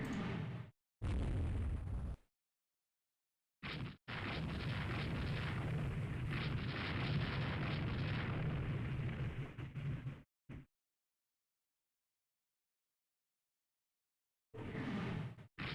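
Naval guns fire in the Rule the Waves 3 battle game, heavy booms and rumbling salvos in long loud bursts separated by sudden silences, with another burst returning at the end.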